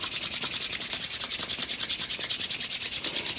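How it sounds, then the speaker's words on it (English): Hands rubbing together briskly during a morning self-massage, a fast, even rhythm of close, dry swishing strokes with no talking. "So start rubbing your hands together."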